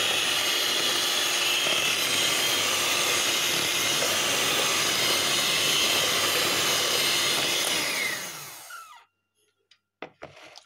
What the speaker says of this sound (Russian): Нашу глазурь взбиваем в течение 1 минуты до тех пор, пока не появятся вот такие бороздки.